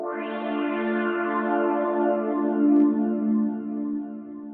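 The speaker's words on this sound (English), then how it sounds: "I love that kind of filter sweep with resonance there" Resonant low-pass filter sweeping across a sustained, harmonically rich Kontakt synth pad, steady and loud with delay and reverb tails, no voices over it.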